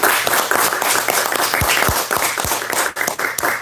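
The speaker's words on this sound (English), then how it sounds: "Give me some applause." Audience applause at a guitar clinic inside a music store, steady dense clapping from a modest crowd lasting throughout, with a few sharp low thumps and no clear talk.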